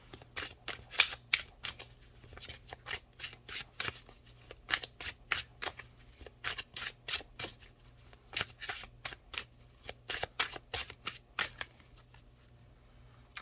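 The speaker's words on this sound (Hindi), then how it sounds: "लास्ट कार्ड निकाल रही हूँ मैं।" A deck of cards is shuffled and drawn one by one: crisp, papery riffles and snaps arrive in quick, steady bursts, close and fairly loud, with no voices.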